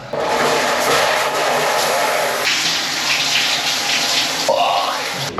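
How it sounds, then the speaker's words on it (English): Shower running in an airport lounge, a loud close spray of water that shifts in tone as the stream moves and keeps going throughout. "Let me shower."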